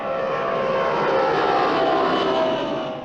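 A model plane flies overhead with a continuous engine drone that stays loud and steady throughout, swelling slightly in the middle.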